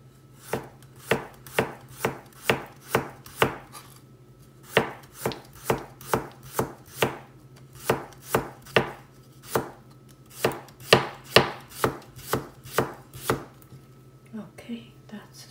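A knife chopping food on a chopping board while toast with salmon and cucumber is prepared: a steady run of crisp, close, regularly spaced chops, about two per second, with a short pause midway and no talk.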